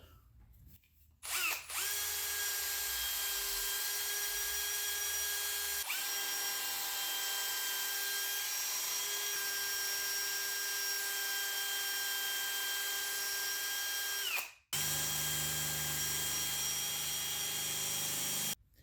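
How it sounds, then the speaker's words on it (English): A power drill fitted with a very light buffing head runs steadily while polishing a dirty, scratched Yamaha lens. It gives a loud, continuous high whine that holds for about thirteen seconds, cuts out briefly, then starts up again. "Mr. Drill has joined the party with a buffing head. This is a very light one."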